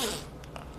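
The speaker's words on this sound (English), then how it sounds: "zippers kind of a little bit loud. Actually, not too bad, but nice quality zipper" A heavy-duty zipper on a KUIU hunting jacket is pulled in one quick, close rasping stroke, fairly quiet, with faint small ticks trailing after.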